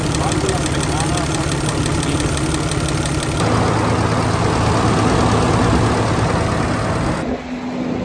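A Cummins 6.7 diesel engine with a valve noise problem runs loud and close at a steady idle. Its tone thickens about midway and drops off abruptly near the end.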